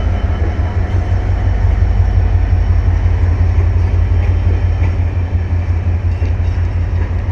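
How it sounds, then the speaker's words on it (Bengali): A Bangladesh Railway train with AC and non-AC cars pulls away from Joydebpur station, a loud, steady low rumble of rolling wagons filling the whole stretch without pause. "জয়দেবপুর স্টেশন থেকে ছেড়ে যাচ্ছে"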